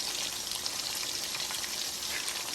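Lumpia frying in hot oil give off a steady, even sizzle with fine crackling throughout, close and unbroken, with no voices.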